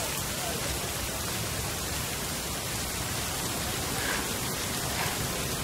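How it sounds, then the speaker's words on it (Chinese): Steady rain falls in a dense, unbroken hiss that stays level and fairly loud throughout, with no other clear sounds above it. "下雨了"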